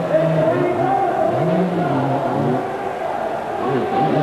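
Motocross bikes race around a track at a 1986 USHRA event in Philadelphia, their engines revving and whining continuously with rising and falling pitch, loud and close throughout.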